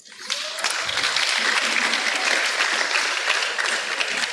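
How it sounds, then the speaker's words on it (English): Steady, dense audience applause fills a university lecture hall, loud and continuous throughout, many hands clapping at once without a break. "That is if you clapped."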